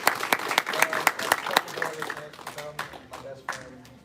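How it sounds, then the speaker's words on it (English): An audience claps for a student at a Brazilian jiu-jitsu belt promotion, sharp distinct hand claps in a loose, uneven rhythm that gradually thin out, with faint voices in the background. "We can clap for him, can't we?"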